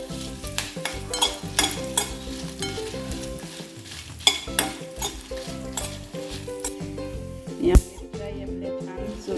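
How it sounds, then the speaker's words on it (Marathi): Whole dried red chillies roasted and stirred in a pan for South Indian sambar masala: a busy, continuous sizzle and stirring rattle under loud background music, no speech. "आपण ह्या अख्ख्या लाल मिरच्या घेतल्या ह्या छान भाजून घेऊया परतून घेऊया"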